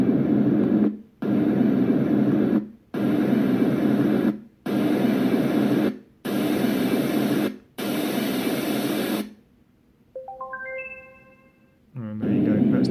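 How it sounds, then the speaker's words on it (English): A portable white noise machine plays brown noise: bursts of deep, rumbling broadband noise in repeated blocks separated by brief silences, followed by a rising series of electronic beeps. "It's a deeper sounding noise, more like a waterfall or ocean sound than the higher pitched white noise"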